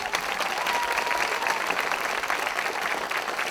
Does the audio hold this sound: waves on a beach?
no